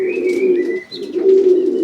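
Young widowhood pigeon cocks cooing in their loft boxes, with close, loud, repeated throaty coos and a brief dip in the middle before the cooing resumes, heard alone.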